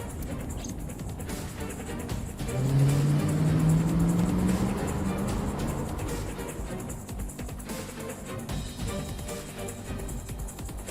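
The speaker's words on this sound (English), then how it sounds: "The engine raised a high-pitched scream, but I could barely hear it." A car engine races in a video game, a steady low drone that rises in pitch and fades back under faint background sound.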